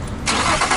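A Nissan G35 coupe engine cranks and catches after a belt and power steering pump replacement, a short loud burst of starter and engine rising to a steady roar, heard close up with no talking.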